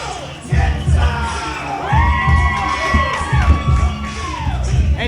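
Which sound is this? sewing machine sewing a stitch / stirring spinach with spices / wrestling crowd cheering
wrestling crowd cheering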